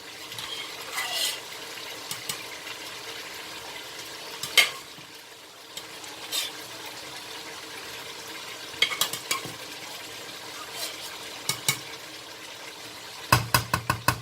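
Mutton pieces for aloo gosht salan fry quietly in a pan with no water added, a soft steady sizzle broken by occasional sharp clinks and scrapes of a spoon stirring.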